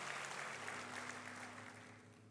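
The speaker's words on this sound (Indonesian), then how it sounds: "Berikan tepuk tangan yang meriah sama Tuhan." Church congregation clapping together, a steady dense wash of applause that holds for a couple of seconds and gradually eases off, with no voices on top.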